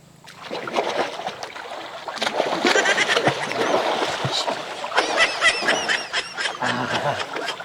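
People splash and wade in outdoor water while going for a swim, with repeated sloshing and splattering close by and loud shouts and calls mixed in.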